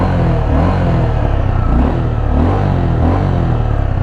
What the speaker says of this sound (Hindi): इसका जो साउंड मिलेगा ना आपको वो एक थंब वाला साउंड नहीं मिलेगा, एक बजिंग वाला साउंड मिलेगा।